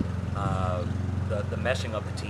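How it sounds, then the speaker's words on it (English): A neighbor's lawn mower drones steadily in the background, a low continuous engine hum running beneath someone talking close by. "we got the neighbor mowing the lawn right now, so please excuse the noise"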